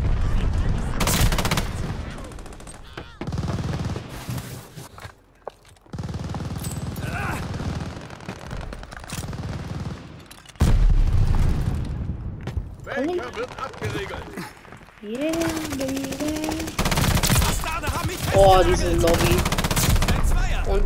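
KGM 40 submachine gun firing in Call of Duty Vanguard, loud rapid bursts of automatic fire broken by short gaps, with someone talking over the shooting.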